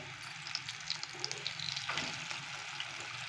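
Kofta pieces fry gently in hot oil in a pan, giving a steady, fairly quiet sizzle with small crackles and pops scattered throughout, heard alone without any talking.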